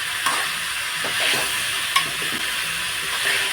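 Vegetables for a spicy mixed chutney fry in a few spoons of oil over a flame, a continuous close sizzle broken by scraping stir strokes and occasional clinks of the spoon against the pan.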